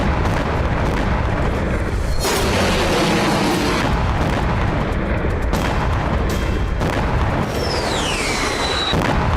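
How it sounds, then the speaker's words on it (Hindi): Loud, dense booming explosions and crackling bursts in rapid succession during a night attack in Crimea, with a whistling streak rising and falling near the end. "यहाँ देर रात बैक टू बैक धमाके होते रहे"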